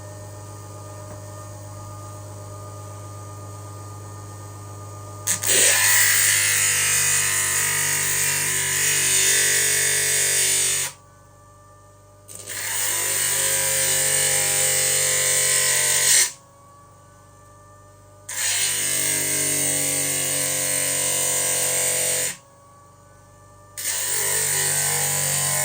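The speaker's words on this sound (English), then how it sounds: "we're going to grind this High Tech Diamond cab on this 100 grit diamond lap" A High Tech Diamond cabochon is ground on a 100 grit diamond lap, giving a loud, steady abrasive hiss over a motor hum, in four long bursts separated by brief pauses where only the motor drone remains.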